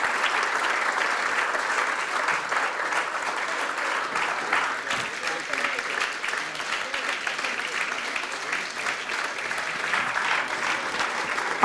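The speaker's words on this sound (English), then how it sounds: "I hope you will all join me in giving a big round of applause" Sustained audience applause for an honoree at a local legends award ceremony, a dense, even roar of many hands clapping that holds steady throughout without talk.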